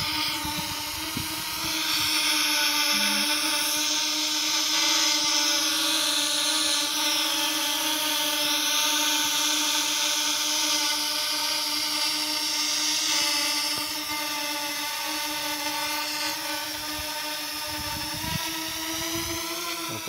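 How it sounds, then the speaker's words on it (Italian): A C-Fly Dream drone hovers nearly motionless in the air outdoors, its propellers giving off a steady, loud, high-pitched whine that holds for the whole stretch with slight shifts in pitch and no voices. "Il drone è sempre abbastanza immobile, un po' più alto."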